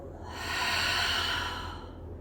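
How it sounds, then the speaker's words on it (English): A deep yoga breath, one long audible inhale swelling into an exhale, close and breathy with a soft airy hiss and no talking. "Take an inhale and an exhale."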